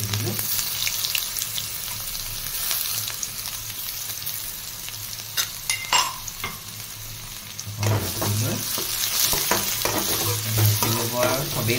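Garlic sizzles and crackles in hot oil with five-spice seeds in a home kitchen, a continuous moderate frying hiss with occasional stirring clinks and scrapes and bursts of louder spatter.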